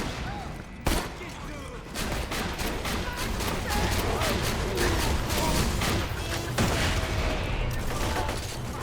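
In Borderlands 2, a turret fires continuously at an armored skag, producing rapid, dense bursts of gunfire with sharp cracks, while a player talks over the shooting.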